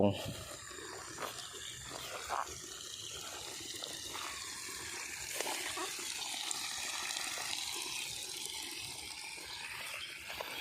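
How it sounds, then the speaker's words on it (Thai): Strongly flowing water rushing through a rural field stream or channel during stormy weather, a steady broadband roar that continues for the whole stretch while someone talks over it. "นี่อันนี้น้ำไหลแรงมาก"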